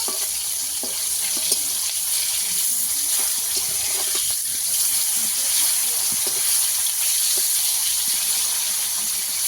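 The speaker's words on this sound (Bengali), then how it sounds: "মাছগুলো আমি অল্প অল্প করে ভেজে নেব" Freshly caught pond fish fry in hot oil in small batches, giving a steady, loud bubbling sizzle that continues without a break throughout.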